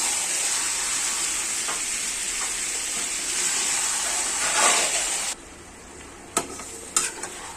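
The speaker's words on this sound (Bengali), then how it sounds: "এদিকে মাংসটা কষানো হচ্ছে" Mutton sizzles loudly with onions in a pan, a dense, steady hiss under stirring for about five seconds. It then drops to a quieter sizzle broken by a few sharp utensil clinks.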